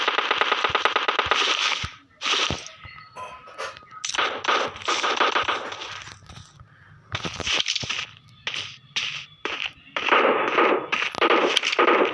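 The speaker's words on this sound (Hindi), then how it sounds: "फिर आप देख सकते हैं यहाँ पे भी फायरिंग हो रही है।" Gunfire in the battle royale game PUBG Lite crackles in rapid automatic bursts and single shots, loud and close, separated by short gaps of quiet throughout.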